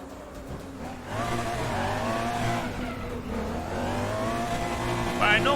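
A Porsche race car engine in the RaceRoom sim revs and pulls at a rising, steady drone, with its harmonics climbing and falling as it shifts. A faint voice sits under it.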